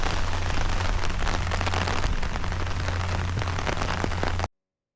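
Steady rain falls outdoors, a dense, continuous hiss of drops on surfaces, loud and close, with no voices, cutting off abruptly near the end.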